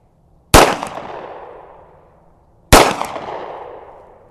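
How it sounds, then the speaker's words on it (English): Two sharp, loud shots from a Swiss P49 SIG P210 pistol fired one-handed, spaced about two seconds apart, each a sudden crack followed by a long ringing decay outdoors. "Let's try some one-handed shooting."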